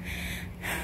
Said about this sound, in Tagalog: Naririnig niyo ang aking hingal.